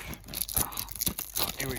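Plastic wrap being torn and crinkled off a movie disc case, a quick close run of ripping and crackling bursts with faint talk around it.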